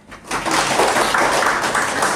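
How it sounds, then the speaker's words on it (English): A crowd of audience members bursts into sustained clapping during a group game, a dense, fairly loud wash of applause that starts abruptly and carries on steadily without talk. "Can you show me how to clap?"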